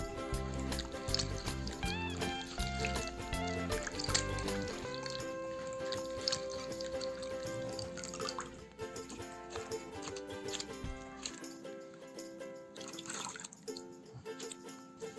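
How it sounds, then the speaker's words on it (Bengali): Potatoes being rinsed in a bowl of water while making homemade potato chips, with continuous sloshing, swishing and dripping water close by, set against a steady tonal background. "সবগুলো আলু ধোয়া শেষ হয়ে গেল।"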